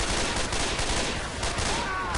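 Dense gunfire in the video game Left 4 Dead 2, a loud, continuous rattle of rapid shots filling the whole stretch with no pauses.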